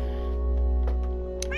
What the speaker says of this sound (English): the Minecraft kitty cat that is making the meow meow sound effects right now